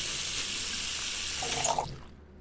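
Tap water fills a cooking pot in the kitchen game Cooking Simulator, a steady close rush of running water that cuts off after about two seconds.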